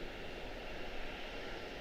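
A Boeing 737-800 airliner at Charlotte Douglas airport: a faint, steady broadband engine roar with a hissing upper band, continuous and distant throughout, no voices.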